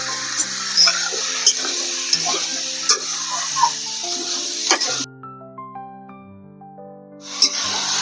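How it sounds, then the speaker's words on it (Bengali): Bottle gourd sautéing with salt and turmeric in a pan, a continuous sizzle broken by repeated sharp scraping clicks of a spatula, briefly cutting out, then resuming. "আমার লাউটা কষানো হয়ে গেছে"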